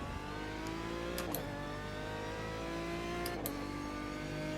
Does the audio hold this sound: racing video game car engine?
yes